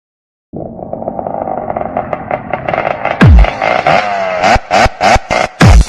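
A Yamaha RX vintage motorcycle engine, an RX 100/135 two-stroke, starts up and idles steadily, then is revved in a series of sharp, loud blips near the end, heard close with no talking.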